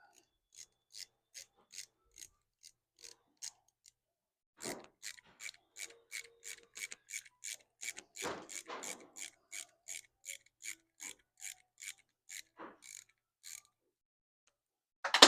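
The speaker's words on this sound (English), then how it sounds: "I'm going to run it through a ways just to kind of clean the threads up." A thread tap is turned into a metal steering column part and then backed out, giving a close, regular series of sharp ratcheting clicks and creaks in short bursts, with a brief pause partway and a few heavier grinding strokes.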